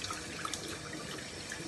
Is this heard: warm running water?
yes